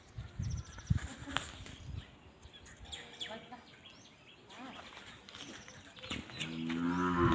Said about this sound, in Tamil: நல்ல கனமான மாடுங்க.